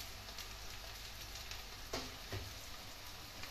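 Onions frying for a cabbage sabzi give a quiet, steady sizzle with a couple of soft stirring clinks near the middle, no voices.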